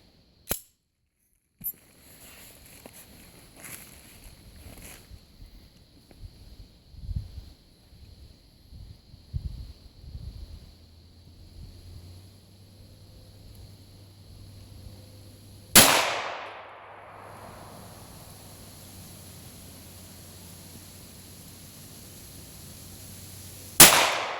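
A .45 ACP firearm fires, with a couple of sharp reports early on, a loud close shot at about the midpoint that rings out, and another at the end, separated by quieter handling noise.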